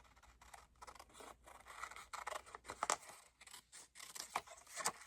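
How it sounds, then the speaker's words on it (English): Scissors snip through paper while trimming around a handmade pocket, a quick irregular run of close, crisp cuts and rustles with short pauses between strokes. "I'm just going to trim around it."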